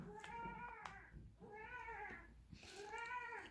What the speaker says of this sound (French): si vous entendez miauler, c'est mon chat qui vient avec son doudou.